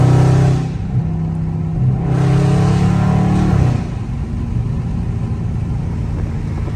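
A Dodge Charger Scat Pack engine revs up and down in a few surges, then settles into a lower rumble, fairly close and steady without speech.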